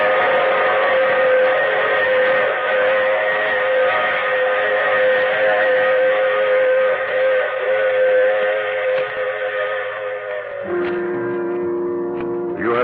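A steam train whistle blows loud and sustained as a sound effect in a 1952 radio drama, a steady chord-like tone over rail rumble that shifts pitch near the end.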